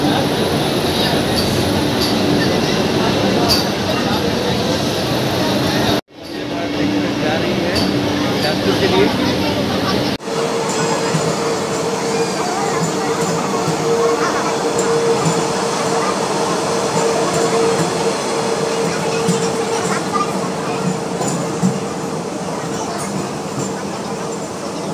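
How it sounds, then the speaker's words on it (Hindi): A Vande Bharat Express train runs past with loud continuous rumbling, wheel noise and a sustained squealing tone, and a brief abrupt dropout interrupts it partway through. "मैं इस वीडियो के माध्यम से आप सभी को वंदे भारत एक्सप्रेस दिखाने की कोशिश कर रहा हूं"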